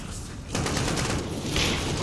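Gunfire in Call of Duty Modern Warfare inside a burning mine, a dense rattling burst of shots that swells after a half-second lull, loud and continuous for about two seconds.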